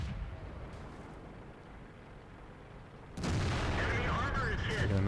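A tank cannon fires an opening shot in World of Tanks, a sudden loud blast after a quiet engine rumble, followed by a sustained roar and ringing debris.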